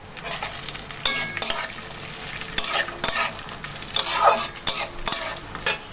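Raisins fry in hot oil in a pan while a spoon stirs them steadily, giving a continuous close sizzle broken by repeated scraping strokes against the metal.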